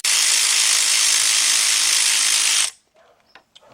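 A ratchet working loose the cylinder head bolts on a Nissan engine during a head gasket job, a steady, loud, close buzzing whir for most of the clip that stops abruptly, leaving a few faint clicks.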